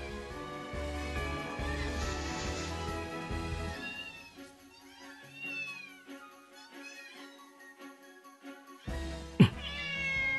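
A drunk cat in the video game London Detective Mysteria meows repeatedly, with long wavering, whining cries that rise and fall, loud and close, with short pauses between calls.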